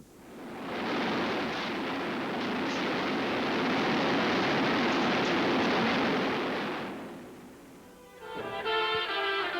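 An AC-130 Spectre gunship's gun firing, a broad, loud rushing roar that holds for about six seconds and then fades, followed by a brief burst of tonal noise.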